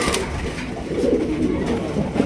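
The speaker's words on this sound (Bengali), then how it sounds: "এখানে রয়েছে আপনার অ্যালমন্ড কালারের ফ্যান্টেল কবুতর" An almond-coloured fantail pigeon cooing close by, soft repeated low throaty coos over a busy background.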